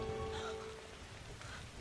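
Steady rain falls through a film scene set in early nineteenth-century England, a soft continuous hiss with a faint low tone humming beneath it during the first second, no voices.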